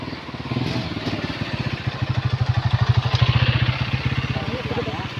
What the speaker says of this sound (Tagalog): Alright, may dumawid ng motor.